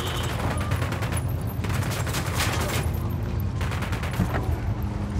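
Sustained volleys of rifle gunfire in Tom Clancy's Ghost Recon Wildlands, fast overlapping shots crackling steadily at moderate volume through the whole stretch.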